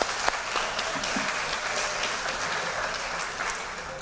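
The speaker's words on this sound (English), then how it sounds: "give a big round of applause to our assistant coaches as well" A banquet crowd at a school athletics awards night gives the assistant coaches a round of applause, steady, even clapping from many hands at moderate level.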